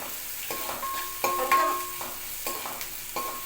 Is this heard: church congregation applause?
no